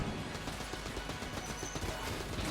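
Fast, continuous automatic fire from an AK-like gun in the video game Enter the Gungeon, a dense rattling stream of shots that stays loud and steady throughout.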